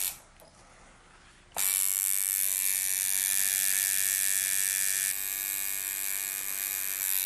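A tattoo machine buzzes steadily and close, a loud continuous whine with a rich harmonic hum that starts abruptly after a quiet moment and runs on with a slight drop in level partway through.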